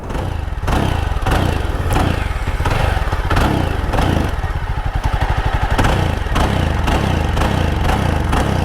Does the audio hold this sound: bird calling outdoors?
no